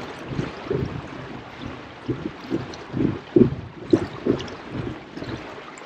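A Das King Nautilus fishing kayak pushing through water at about five miles an hour: soft, rhythmic sloshes and splashes over a low, wind-brushed background, fairly close, with no talking.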